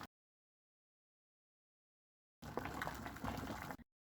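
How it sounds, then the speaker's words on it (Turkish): Bubbling, rolling water in a pot at a steady boil, heard close for a little over a second after a long stretch of silence. "yaklaşık 20 dakikadır kaynayan tenceremi tekrar görmenizi isterim"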